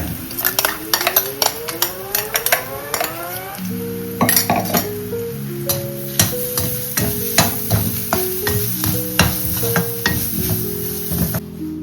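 Carrots stir-fried in oil in a home kitchen pan, with a steady sizzle under repeated metal clinks and scrapes of a spoon stirring against the pan throughout.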